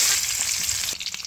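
Boiled eggs frying in hot mustard oil with a pinch of turmeric and salt in a kadai, a loud, dense, continuous sizzle with a slight stirring scrape toward the end.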